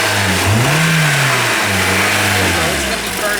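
A 2009 Toyota Corolla engine with four low-compression cylinders revs up and settles, a loud mid-range engine note rising and falling continuously close by.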